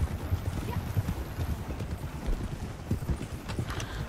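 Horse hooves clip-clopping in the video game Red Dead Redemption 2, a fast, continuous clatter of hoofbeats over a rumbling ground noise, with faint talk mixed in.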